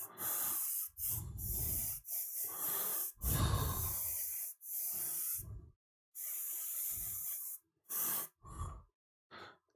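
Sotar airbrush spraying paint in wide passes over a miniature dragon, heard as a series of close, loud bursts of breathy hiss with short silent gaps between them.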